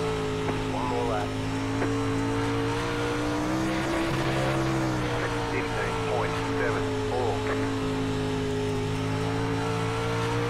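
Simulated Pro Late Model race car on a qualifying lap at Eldora Speedway dirt oval, engine droning loud and steady throughout with pitch dipping and rising through the turns, faint tire scrubbing mixed in.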